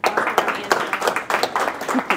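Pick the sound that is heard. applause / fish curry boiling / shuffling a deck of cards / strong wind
applause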